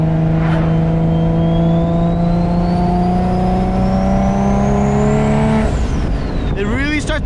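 An 800HP turbocharged Nissan G35 engine accelerates at half throttle, a loud, steady rising engine note climbing for about five seconds before backing off, close and continuous with exhaust roar throughout.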